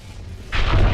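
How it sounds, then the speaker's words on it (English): A swarm grenade bursts in Valorant, a sudden loud blast that cuts in halfway and keeps rumbling with layered booms to the end. "Placing swarm grenade."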